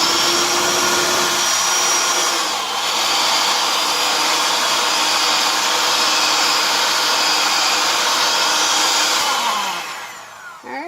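Electric mixer blending dairy-free brownie batter, a loud, steady whirring drone that runs close and unbroken for about ten seconds before winding down at the end.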